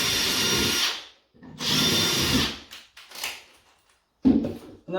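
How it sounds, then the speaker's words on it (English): A power drill with a 3mm bit bores into a wooden floorboard, angled toward the joist below, in two loud sustained runs of about a second each, followed by shorter bursts and a sharp closing knock. "We'll put the 3mm bit through, a slight angle towards the joist below."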